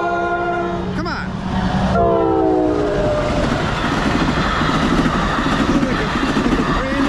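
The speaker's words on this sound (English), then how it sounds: "Give me a horn show." A loud multi-tone horn from an NJ Transit Bombardier ALP-45DP locomotive blasts twice, sliding into the rumble and rhythmic clatter of a passing train that continues to the end.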